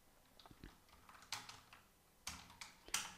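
Keys clacking on a computer keyboard while entering a search in a Gmail account settings page, with short clusters of soft taps at quiet level separated by brief pauses.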